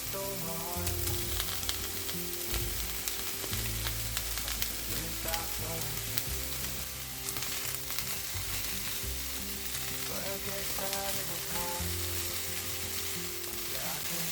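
Minced meat with pepper fries in a pan, a steady dense sizzle with occasional stirring scrapes, heard under background music with no talk.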